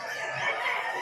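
Chickens at the Malabon pet market give a brief, close clucking call, a short burst of fowl voice over an ambient market background.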